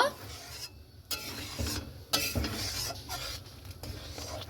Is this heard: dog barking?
no